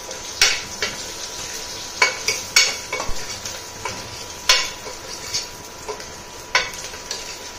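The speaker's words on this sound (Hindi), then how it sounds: "तो इधर मैं दाल को भून लूंगी डाल करके," Dal roasting in hot ghee, stirred with a utensil that knocks against the pan in irregular clear clicks and scrapes over a low, steady sizzle.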